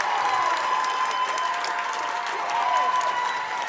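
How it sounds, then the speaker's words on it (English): A crowd in the maroon section at a girls' high school basketball district championship, Breckinridge County, bursts into sustained loud applause and cheering as they rise to their feet. "you can hear that crowd rising to their feet in the maroon section"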